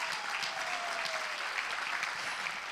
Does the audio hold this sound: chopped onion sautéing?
no